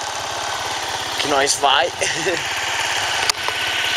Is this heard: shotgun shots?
no